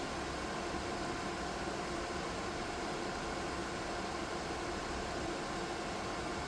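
A DIY 3D-printed soldering smoke absorber fan runs loudly and steadily, giving a constant close whooshing airflow hiss with no change in level.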